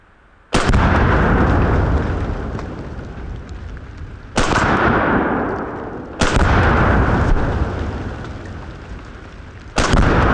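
Four loud, close gunshots from poison bullet rounds fired into a pumpkin, each a sharp blast followed by a long booming decay that runs into the next shot.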